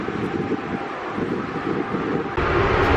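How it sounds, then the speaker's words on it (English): Wind blows steadily outdoors beside an old ship, the Vesterålen, on a Norwegian fjord, making a continuous broadband rushing noise that gets a little louder near the end, with no talking. "It's quite windy today"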